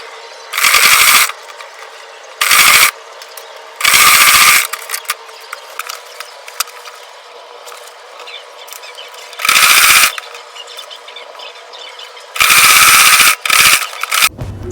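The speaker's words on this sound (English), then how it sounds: "I'm going to go ahead and run a straight stitch." A sewing machine runs a straight stitch through Ankara fabric, sounding in six loud mechanical bursts of fast rattling, separated by quiet pauses, with no talk.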